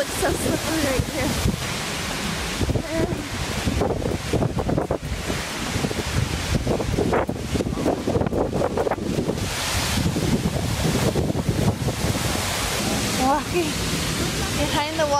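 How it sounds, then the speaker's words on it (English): Powerful waterfall in Iceland, heard from behind the curtain of falling water: a loud, steady roaring rush with heavy wind buffeting the microphone throughout. "Behind the waterfall."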